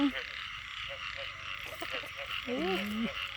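Frogs croaking at night during rain, close, repeated croaks and a rising call over a steady wash of rain and insect-like hiss, with brief human voice sounds in the background.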